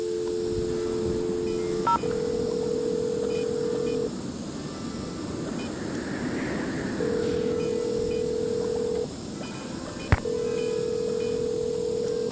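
Steady electronic telephone keypad tones from a voicemail system in a 2001 Nancy Drew PC mystery game, several long beeps separated by gaps over a faint hiss, with a sharp click near the end.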